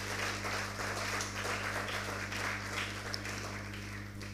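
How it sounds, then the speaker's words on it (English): Audience applause at a junior high school quiz competition, a continuous dense patter of clapping from a hall full of people, moderately distant, with a steady electrical hum underneath. "Let's give them a hand of applause."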